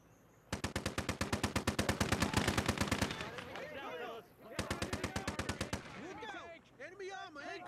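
Machine guns lay down suppressing fire in the Gates of Hell: Ostfront WWII video game, two long, loud bursts of rapid evenly spaced shots with shouting voices between and after them.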